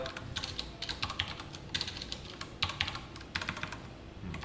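Keys clatter on a computer keyboard while someone codes a Java JDBC text board program. Quick close bursts of keystrokes come in uneven clusters with short pauses, and no one speaks.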